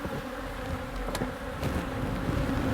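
Honey bees fill an opened hive at an organic honey farm in Fujairah with a dense, steady buzzing that stays close and loud for the whole moment, with no talk over it.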